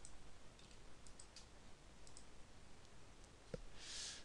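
Computer mouse clicks during a software setup: several faint, scattered clicks and taps over a soft background hiss, with one sharper click near the end.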